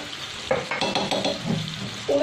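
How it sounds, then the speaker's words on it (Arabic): Chicken being stirred in a pan with garlic powder and soy sauce, a spoon scraping and clinking in bursts over a steady sizzle, close and fairly loud. "غادي نخلط هاد المكونات ديالي كامله، نخليوها طيب مع الدجاج"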